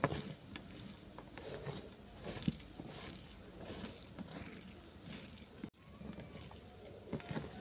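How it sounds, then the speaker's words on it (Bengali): Methi leaf paste ingredients with small fish, fried cumin, chilli and salt being mashed together by hand, giving soft, close, wet squelching and rubbing sounds in a steady rhythm. "এই সব উপকরণ আমি একসঙ্গে মেখে নেব।"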